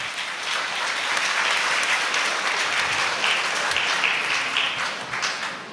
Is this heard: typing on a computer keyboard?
no